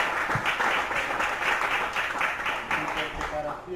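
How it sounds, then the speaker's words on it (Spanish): Church congregation applauding in worship, a sustained wash of clapping from many hands at moderate loudness, with voices mixed in underneath. "Vamos a brindar un fuerte aplauso a nuestro Dios, porque Él es bueno."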